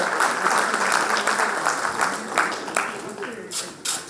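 An audience claps in a sustained round of applause welcoming a speaker at a chartered accountants' session on income tax law, dense and steady, thinning slightly toward the end with a few louder individual claps.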